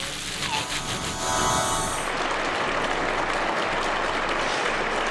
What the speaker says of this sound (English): The applause here in Beijing for the return to the arena of the world #1, Ronnie O'Sullivan.